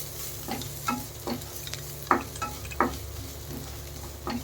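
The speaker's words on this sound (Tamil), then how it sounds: "வெங்காயம் நல்லா வதங்கிடுச்சு பாருங்கள்" Onions sautéing in a pan for a crab curry, a low steady sizzle with a few sharper clicks of a spoon stirring against the pan, close and moderately quiet, with no talking.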